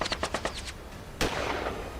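A single loud gunshot cracks sharply at mid-clip and trails into a noisy decay, following a quick run of rhythmic staccato bursts, with no voices present.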